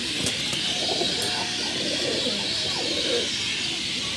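A flock of same-line pigeons keeps up a constant low cooing nearby, layered calls blending into a continuous murmur, with a faint voice briefly in the background.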